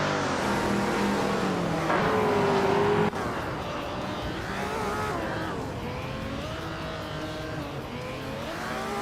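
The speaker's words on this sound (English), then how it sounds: "Renan is driving a 1965 Ford Mustang GT" Engine of a 1965 Ford Mustang GT in a racing video game, a steady loud drone with shifting revs and a brief rising whine, continuous throughout with no break.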